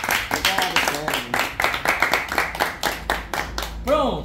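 A studio audience claps for Célia in quick, steady beats that carry on throughout, with voices talking over the clapping.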